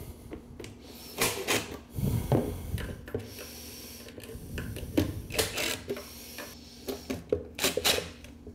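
Screws being adjusted on a bathroom vanity during installation, with a series of short clicks, scrapes and rattles scattered at close range, some louder bursts near the middle and end, with no speech.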